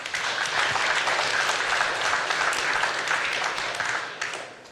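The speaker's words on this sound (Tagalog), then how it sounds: "Lahat nga po na nagmamahal sa Panginoon na naririto ay pumalakpak sa Kanya" A church congregation claps together, a steady, moderately loud crowd applause that holds evenly before easing off near the end.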